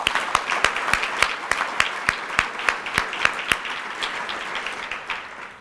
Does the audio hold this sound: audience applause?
yes